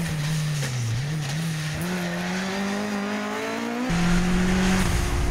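Rally car on a special stage at the Azimghur Stages, engine droning steadily and rising through gears with a sharp gear change near the end, close and loud with no talk.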